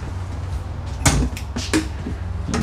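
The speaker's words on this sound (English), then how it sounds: "And these are not soft closing drawers." Several cabinet drawers in a luxury RV bang shut in quick succession, sharp wooden thuds and knocks up close against a low hum, with no soft-close damping.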